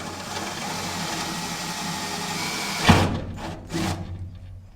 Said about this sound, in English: of course I've got to have the dullest drill in the entire kit working for me